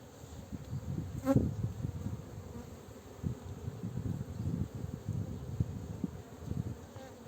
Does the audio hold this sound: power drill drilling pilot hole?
no